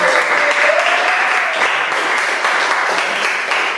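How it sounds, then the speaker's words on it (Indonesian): Classroom applause for the best student group receiving a prize, a steady dense wash of many hands clapping at close range throughout, without a break. "Berikan tepuk tangan."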